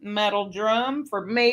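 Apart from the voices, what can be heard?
None of the usual background noises is heard.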